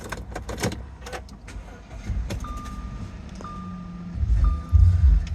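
A 2012 Audi Q5 Premium Quattro with about 100,750 miles cranks and starts, with a low rumble and short electronic chimes, then the engine note swells and settles into a fairly quiet idle.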